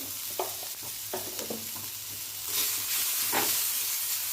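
Cumin seeds and peanuts roast in a pan with a soft sizzle and a few scraping stirs, and the hiss swells louder in the second half, close by with no talk.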